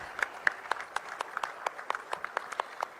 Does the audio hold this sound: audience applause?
yes